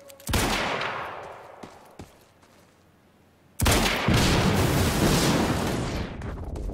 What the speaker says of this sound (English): Unnecessary explosions are necessary.